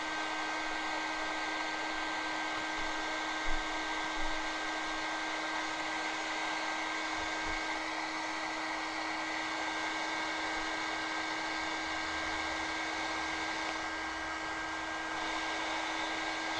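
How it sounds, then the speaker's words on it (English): Heat gun blowing hot air onto a roof section of a 1/6 scale Armortek Hetzer Jagdpanzer 38 model, a steady close whirring hiss with a constant motor whine running throughout, a couple of faint knocks, no speech. "So I'm now going to get my heat gun."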